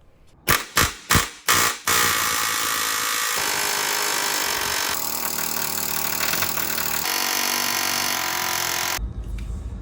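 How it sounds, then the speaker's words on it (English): Four sharp, loud pneumatic air hammer bursts in quick succession on a Jeep Cherokee XJ frame, followed by a sustained loud rattling drone of the air tool that cuts off near the end. "We'll be starting with the air hammer"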